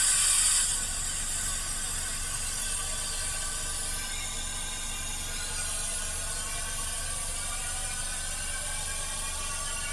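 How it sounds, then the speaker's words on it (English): Carburetor cleaner sprays from an aerosol can into the engine of a vehicle that sat for over 25 years, a short, bright hissing burst at the very start that gives way to a faint, steady background hiss and hum. "Go and spray some of this down in there again. It's a carburetor cleaner."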